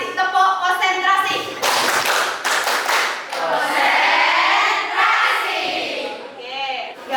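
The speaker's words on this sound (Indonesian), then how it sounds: "Konsentrasi, tepuk konsentrasi." An Indonesian classroom doing the rhythmic "tepuk konsentrasi" concentration clap, with bursts of hand claps and taps from the class mixed with a teacher's and children's voices.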